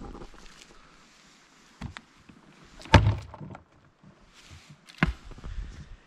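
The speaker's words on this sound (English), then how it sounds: "anytime you hear the thud of a Thunderbox, you are to cheer" A wooden thunderbox toilet lid at a campsite in the woods closes with a single close, dull thud, followed a couple of seconds later by a second, similar knock amid quiet outdoor ambience.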